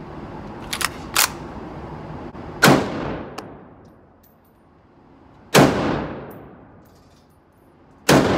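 A Browning Automatic Rifle firing at an outdoor range: a few light clicks, then three loud, widely spaced single shots, each ringing out with a long echoing tail, and no talking.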